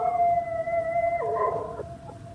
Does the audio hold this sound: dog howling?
yes